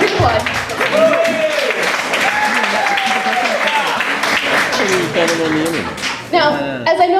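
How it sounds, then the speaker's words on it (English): Wedding guests clap in a sustained burst of applause, loud and close, with voices and cheers mixed through it and a voice rising near the end. "You can applaud."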